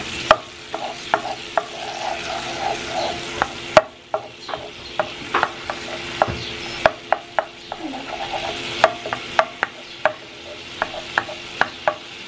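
Onion and tomato being stirred in a sizzling pan, with a spatula knocking and scraping in a regular rhythm of sharp taps over a low continuous fry, close and loud, without talk.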